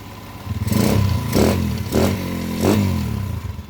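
A freshly rebuilt motorcycle engine with a replaced crankshaft bearing, worked on at a mechanic's shop in Mangaldan, Pangasinan, revs in four strong, evenly spaced bursts over a loud, close idle.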